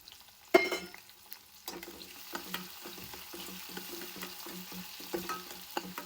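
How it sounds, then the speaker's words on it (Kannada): Onion frying with chana dal and urad dal for wheat shavige bath, a soft sizzle under repeated spatula stirring and scraping in the pan, with one louder knock early on. "ಈರುಳ್ಳಿ ಫ್ರೈ ಆದ್ಮೇಲೆ ಕ್ಯಾರೆಟ್."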